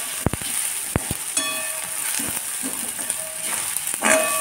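Coriander, Kashmiri red chilli and onion-garlic masala powders sautéing in a pan, a soft sizzle broken by a few sharp clicks and scrapes of stirring, close by and without talking.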